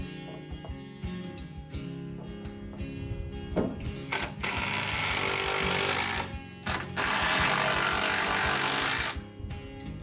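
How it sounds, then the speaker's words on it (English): Power driver sinking long tarukik screws into wooden rafters, loud sustained whirring bursts after quieter tapping and handling noises, close up with no voices. "This time, I'm using longer screws called tarukik,"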